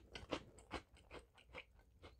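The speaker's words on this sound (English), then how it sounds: "The crunch contrasts the sticky gel very well" Crunchy toast topped with strawberry jam from a Brazilian Navy ration, bitten and chewed in about six close crisp crunches at a steady pace, faint and alone without talk.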